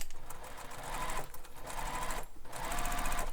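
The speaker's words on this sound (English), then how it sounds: "So now I'm just basting across the bottom edge here." Close, steady whirr of a sewing machine basting along the bottom edge of a crossbody bag, running continuously with two brief slowdowns where the stitching pauses.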